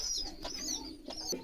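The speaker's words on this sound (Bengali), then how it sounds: "খুব সুন্দর এক জোড়া কবুতর" Pigeons, including a pair of desi golla pigeons and black racers, coo and call softly in a loft, several low murmuring coos overlapping close by against a steady background hum, with faint higher chirps.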